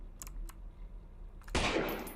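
A gunshot in the horror game Lost in Vivo rings out as one loud sudden blast after a few faint clicks, then trails into a noisy decay.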